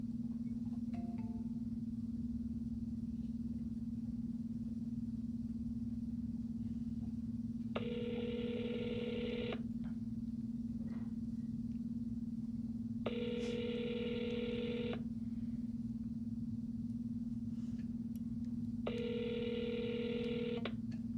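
Three bursts of telephone dialing tones, each about two seconds long, cut through a steady low hum on a phone line during cold calling, with quiet gaps between them.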